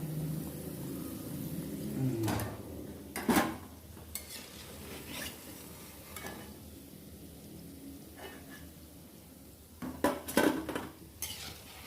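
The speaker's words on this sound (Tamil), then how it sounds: "எடுத்து இந்த தட்டில் இந்த பிளேட்டில் நான் எடுத்து வைக்க போகிறேன்" Fried onion bondas are lifted out of the pan onto a plate, with scattered metal clinks and scrapes of utensils against cookware between quiet stretches, a clustered burst of clatter near the end.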